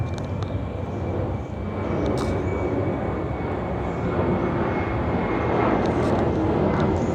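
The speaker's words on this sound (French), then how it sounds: "un second avion est en train de passer." Airplane passing overhead near Chiang Mai airport, a steady, broad engine roar that swells slightly and holds for several seconds, loud and continuous with no speech over it.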